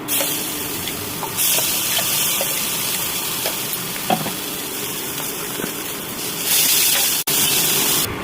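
Water pours into a hot pan of roasted peanut curry with a steady hissing sizzle, close and fairly loud throughout, swelling briefly near the end.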